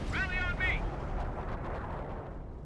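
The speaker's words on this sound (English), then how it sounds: "Here's some sort of artillery barrage." Artillery barrage in Company of Heroes, a dense continuous rumble of low booms and crackling impacts, with a brief high whistling streak near the start, steady and loud throughout.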